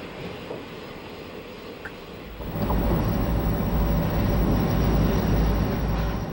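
A CSX phosphate train, a road slug between two GP40 locomotives, rumbles into a loud, steady roar that swells suddenly partway through and holds with heavy low-end drone.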